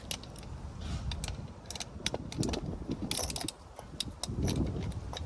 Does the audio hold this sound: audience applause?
no